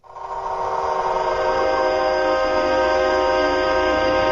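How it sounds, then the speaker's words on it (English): An AI-generated sound of a train morphing into an orchestra, a dense sustained blend of rumbling rail noise and steady horn-like tones that swells in quickly and holds loud and unbroken throughout. "It's a train morphing into an orchestra"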